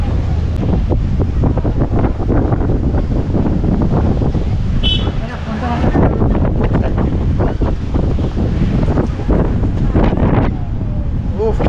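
Strong wind buffeting the microphone in a steady roar by the river at Diamond Harbour, with water lapping faintly underneath and a voice talking partly lost in the gusts.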